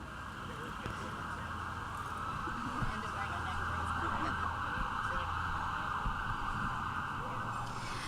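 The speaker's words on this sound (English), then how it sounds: "Those sirens, those are just supporting you." Sirens wail in the distance as a sustained tone over a steady rumbling background, fairly faint and continuous.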